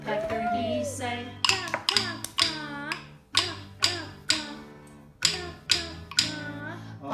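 Children tap rhythm sticks in a classroom music activity, sharp wooden taps in repeated bursts of rhythm alternating with a woman singing and children's voices.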